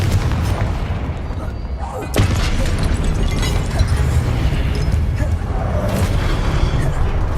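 A Confringo blasting spell bursts in Hogwarts Legacy with a sharp boom, followed by a loud, rumbling explosive wash that continues without letting up.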